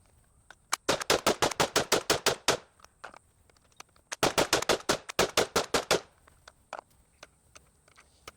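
Rapid bursts from the Chimera firearm during a 2000-round test, two long volleys of sharp, evenly spaced shots with a few single cracks before and after, crisp and close, with a quiet pause between volleys.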